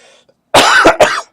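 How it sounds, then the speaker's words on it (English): A person coughs hard and close during a Final Fantasy XIV stream, with a few sharp, loud bursts in quick succession. "I had a cough coming."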